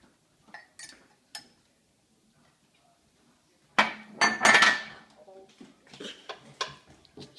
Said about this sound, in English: First, I will stir in the rice.